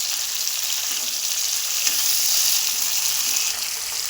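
Tomatoes fry in oil for a gongura pickle, a loud, close, steady hiss of sizzling that holds evenly throughout without pauses or voices.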